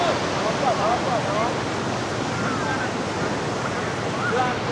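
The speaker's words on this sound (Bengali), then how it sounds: "সমুদ্রের ঢেউটা অনুভব করা যায় সম্পূর্ণভাবে।" Sea waves rolling onto the beach at Cox's Bazar form a steady, dense wash of surf noise, continuous and moderately loud with wind, with no break across the stretch.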